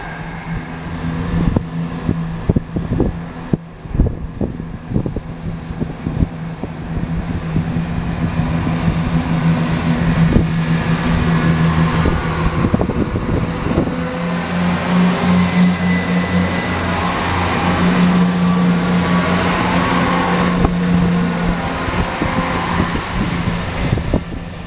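A Class 67 diesel locomotive hauling a train in a new livery set bound for London Marylebone past Banbury: a loud, building engine roar and rumble that swells and holds as it passes close by.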